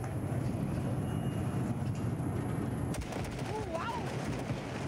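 Gunfire from the Basilisk vehicle in Cyberpunk 2077 comes as faint, rapid bursts under a dense, steady game soundscape, with a brief whistling tone near the end.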